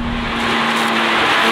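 A Porsche 911 GT3 engine wails hard at high revs, loud and close, with a steady droning tone that climbs slightly over the short burst, alone without talk.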